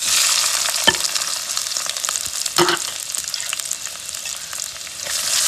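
Chopped onion, green chili and ginger-garlic paste stirred in a hot pan for a fish curry: a steady close sizzle with occasional scraping spoon strokes and no talking.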